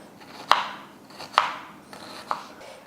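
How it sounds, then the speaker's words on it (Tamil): A large onion is chopped into small pieces with a knife on a board, three distinct, close, crisp chops spaced about a second apart, alone without talk. "இந்த பெரிய வெங்காயத்தையும் இதையும் மாங்காய் வெட்டின மாதிரி நல்லா குட்டி குட்டியாக வெட்டிக்கலாம்."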